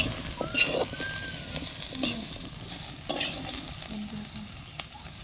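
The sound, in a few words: potato shreds frying in a pan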